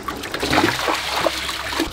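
Indigo-dyed cloth, partly rayon, is rinsed again in water after fresh-leaf indigo dyeing, giving close, steady trickling and splashing with soft sloshes throughout.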